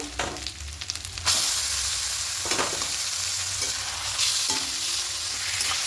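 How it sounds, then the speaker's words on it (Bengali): Taro leaves being stirred with grated coconut in a hot pan, giving a steady sizzle with periodic scraping strokes, close and alone with no talk. "খুব ভালো করে মিশিয়ে নেব"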